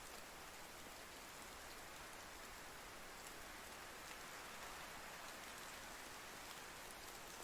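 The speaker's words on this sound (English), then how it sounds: "I feel like I'm yelling over that rain." Steady rain pours throughout, a dense even hiss of falling drops close by with no pauses or other sounds.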